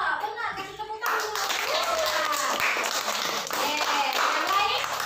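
Schoolchildren in a classroom clap for a classmate who answered correctly, a lively burst of many small hands clapping close by, with children's voices and chatter mixed through it.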